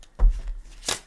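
A Gilded Tarot deck is shuffled by hand, with two short papery riffles and slaps close to the mic, separated by a brief pause.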